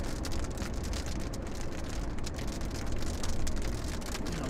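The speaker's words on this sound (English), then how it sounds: "I already hear some hail hitting the glass" Hail striking a car windshield during a storm chase in northwest Texas, a dense steady patter of small impacts on the glass over low road and engine rumble from inside the vehicle.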